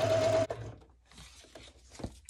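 Home sewing machine stitching fabric, a steady loud mechanical whir for about half a second that then stops, followed by faint handling noises.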